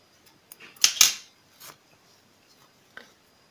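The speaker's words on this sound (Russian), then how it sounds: "Так, теперь обрезаю нить." Scissors snipping crochet yarn after finishing a pair of simple men's slipper socks, two quick close crisp cuts followed by faint handling clicks, alone in a quiet room.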